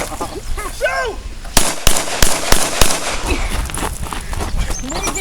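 Pistol shots at a combat pistol workshop ring out as five or six loud, sharp cracks in an uneven burst, while someone shouts urgent commands before and around the gunfire.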